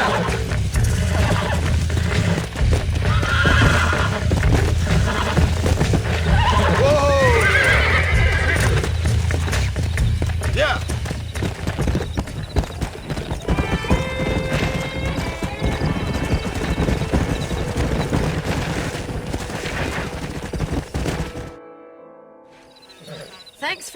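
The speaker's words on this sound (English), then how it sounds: "We got some fine horses." Horses in the Red Dead Redemption video game neigh and whinny loudly over a rapid clip-clop of hooves, with voices speaking at times. The hoofbeats thin out toward the end, then the sound cuts off.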